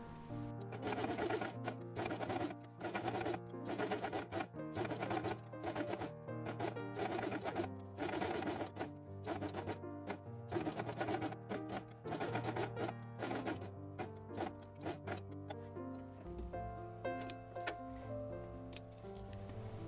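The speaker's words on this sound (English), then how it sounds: "I will sew this element to the base page on the sewing machine." A sewing machine runs in steady rapid bursts, its needle ticking rhythmically up close while sewing a piece onto a base page, pausing briefly between stitching runs.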